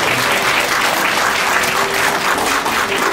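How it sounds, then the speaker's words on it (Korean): Wedding guests applaud at a ceremony in a Seoul penthouse hall, a dense, steady wash of many hands clapping loudly and evenly throughout. "박수 한번 쳐주세요"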